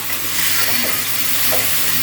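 Steady hissing sizzle of anchovies frying in a pan, with faint crackles, close and continuous.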